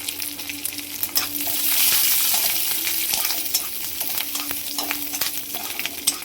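Native village garlic frying in a pan, a continuous close sizzle that swells in the middle with scattered scraping stirs and small clinks, no talk.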